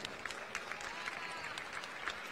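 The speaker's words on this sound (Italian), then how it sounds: "Un applauso." Steady applause from an audience at a fencing awards ceremony, heard as a soft, dense patter of many hands clapping at a distance with no one speaking over it.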